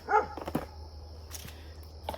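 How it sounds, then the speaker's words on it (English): Dogs barking outside a house with a garden, a couple of sharp barks near the start and again at the end over a steady low background hum. "My dogs are barking."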